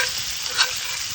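Steady hiss of food frying in a hot pan over a campfire, a bright continuous sizzle with a brief swell partway through.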